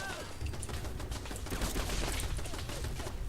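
A 12.7mm submachine gun in Fallout 4 fires full auto in a dense, continuous burst of rapid shots, loud and close, with faint talk underneath.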